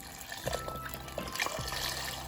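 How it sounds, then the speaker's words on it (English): Water pouring from a tap into an emptied chicken broth carton, a short steady trickling gush with gentle splashing, close and alone. "just fill up the broth with water"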